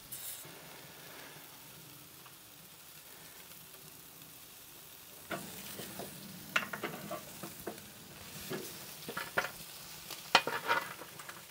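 Party ribs sear over direct heat on hot barbecue coals, a soft continuous sizzle under scattered scraping and shuffling as pieces are moved around the grill, with no voices.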